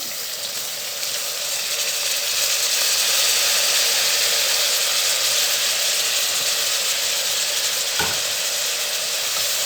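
Chopped tomatoes added to ginger garlic paste in a pan for mutton biryani, a loud steady close sizzle with one brief knock near the end.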